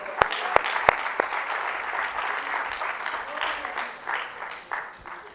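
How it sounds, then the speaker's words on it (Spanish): A church congregation claps along in worship, a few sharp separate claps at the start giving way to steady, dense applause that fills the room throughout. "Dele palmas al Señor"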